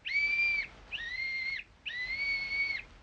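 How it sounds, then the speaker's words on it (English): A little whistle blown three times by a boy named Jimmy, each a thin steady high tone about half a second to a second long, close and fairly soft, with short gaps between. "Blow the whistle quick, Jimmy."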